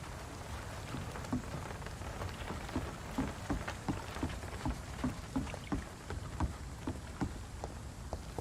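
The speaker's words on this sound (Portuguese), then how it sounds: "Essa partícula de chuva, cara, com luzes, pesa pra caramba no jogo." Steady rain patters across surfaces in the dark gothic game Vampyr, a continuous soft hiss with scattered heavier drips falling at a fairly even rhythm, with no voices over it.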